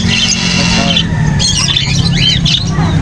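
Shrill squawks and calls from birds such as ring-necked parakeets at a pet market in Angeles City, loud and close, sounding over a busy murmur of people talking.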